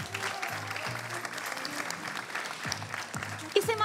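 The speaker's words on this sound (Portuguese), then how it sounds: "uma grande salva de palmas para a organização deste concurso Miss Queen Portugal" Applause from the audience in an auditorium at a beauty pageant gala final, steady clapping that continues underneath someone speaking Portuguese over a loudspeaker.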